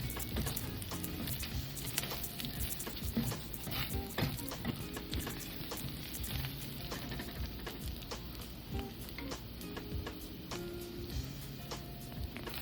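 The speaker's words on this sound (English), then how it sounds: "We fry our rice only till we start seeing some rice kernels lightly turn color" Rice frying in a pot for Mexican red rice, with a steady low sizzle and the repeated scrape and clack of stirring running continuously throughout, close and fairly quiet, with no talking.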